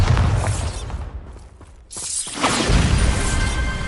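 A Bombarda blasting spell explodes in Hogwarts Legacy with a loud crackling burst, a brief dip, then a second heavy rumbling blast with shattering debris, all without voices.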